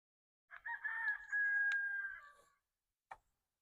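Silkie rooster crowing: one clear, drawn-out crow nearby, with a short call following a moment later, in otherwise quiet surroundings.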